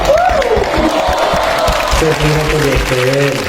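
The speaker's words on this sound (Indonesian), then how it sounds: "Tepuk tangan untuk Pak Syukri." An audience of psychology students claps and cheers to welcome a lecturer at a campus discussion. The clapping is loud and steady, with voices calling out over it throughout.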